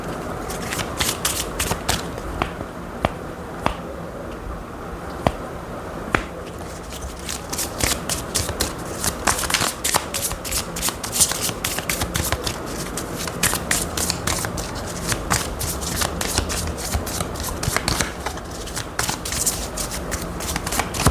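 Tarot cards being shuffled by hand for a long stretch, sparse flicks at first building into dense, rapid riffling and snapping, close and without talk.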